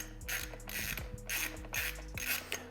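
A ratchet clicks rapidly in short bursts while tightening T20 screws on a BMW G87 M2 steering wheel. The pawl ticks are quiet and close, with no talking.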